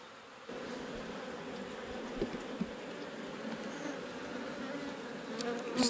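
Honey bees at a stirred-up hive make a steady, dense buzz that holds throughout, close and moderately loud, with a few brief knocks and no speech.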